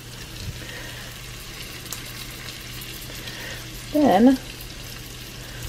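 Shrimp sizzle steadily in hot oil in a pan while cooking shrimp and grits, a continuous soft frying hiss throughout, with a brief spoken word near the end.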